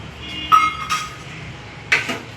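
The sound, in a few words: spoon clinking while adding gram flour (besan) to a bowl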